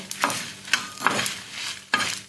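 Food fries in a pan with a close, fairly loud sizzle, punctuated by four distinct stirring scrapes spaced irregularly.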